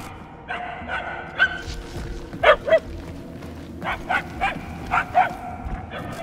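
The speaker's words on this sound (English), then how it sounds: "The barks are getting louder" A dog barks in the video game Marvel's Guardians of the Galaxy, a series of sharp yelping barks at irregular intervals over a low ambient rumble, some distance off but clear.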